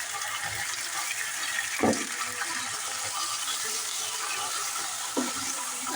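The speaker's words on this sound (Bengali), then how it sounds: "একটু পানি দিয়ে দিলাম।" Water is poured into a pan of browned onion with ginger, garlic and cumin paste while making desi chicken curry, giving a steady hissing, splashing wash with a couple of soft knocks.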